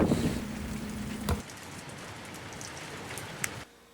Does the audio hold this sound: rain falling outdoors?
yes